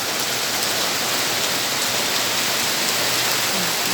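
Steady rain pours down in a continuous, even hiss, loud and unbroken throughout, with no voices.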